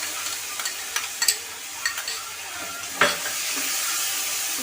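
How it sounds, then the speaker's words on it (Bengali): Spice paste is added to tomatoes already frying in a pan for a fish jhal curry, sizzling steadily while a spoon scrapes and stirs in several sharp knocks, settling into a continuous close fry. "টমেটোটা আমার ভাজা হয়ে গেছে। দিয়ে দিচ্ছি সমস্ত মশলা পেস্টটা।"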